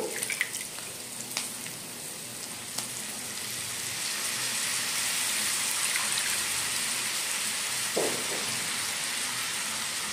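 Ponnaganti greens sizzle steadily in an uncovered pan, a dense continuous frying hiss with faint occasional clinks, no voices over it.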